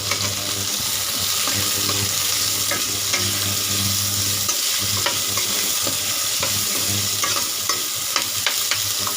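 Frying in refined oil in a pan with stirring, a loud continuous sizzle and crackle close by, with scraping stir strokes and faint clinks throughout.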